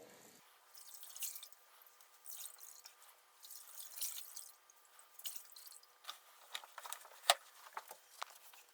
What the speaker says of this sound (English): Just squeezing out the excess water